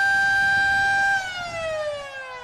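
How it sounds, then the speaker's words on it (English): A dam's warning siren before a water release wails loudly and steadily with layered harmonic tones, then slowly drops in pitch as it winds down, with low rumble underneath. "That's the sirens, meaning they're turning on more water."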